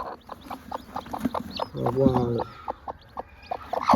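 A free-range hen with newly hatched chicks clucks in a steady run of short, close clucks, with a louder drawn-out call in the middle and faint chick cheeping around it.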